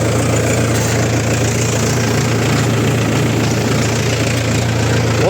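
Mahindra 575di Sarpanch tractor engine driving a rotavator on farmland, a steady loud diesel drone with low rumbling throb and constant vibration throughout, no pauses.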